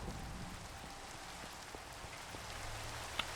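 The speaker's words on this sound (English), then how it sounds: "You know, I know the game lets you sleep through thunderstorms" Steady rain pours down during a Minecraft thunderstorm, a dense continuous hiss with scattered droplet ticks and one brief sharp pop near the end, even and alone with no voices.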